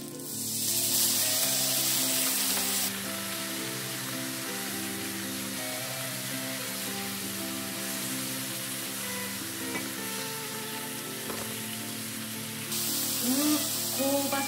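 Ponzu is poured into a hot pan of crispy green onion pancake, setting off a loud, sustained sizzle and crackle of frying that runs steadily throughout, with a brief surge in intensity at the start and end.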